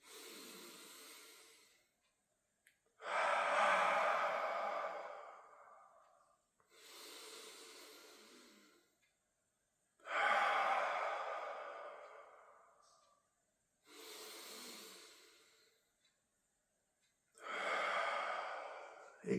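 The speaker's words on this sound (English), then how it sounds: "So definitely take 3 deep breaths like this." Slow, deep breaths during meditation, close and soft: three long inhales, each followed by a quieter hissing exhale, in an even rhythm with no talking.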